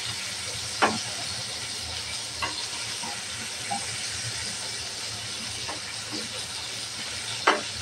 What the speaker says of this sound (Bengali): মাছটা এক পাশ ভাজা হয়ে গেছে, উল্টিয়ে নেব।